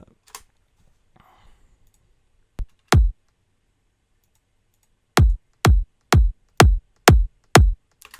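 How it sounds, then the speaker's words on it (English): A kick drum processed with the SPL Transient Designer plugin gives short, sharp, dry thumps, two hits followed by a tight run of six evenly spaced ones, loud and clipped with silence between. "which is the SPL transient designer that sounds kind of like this"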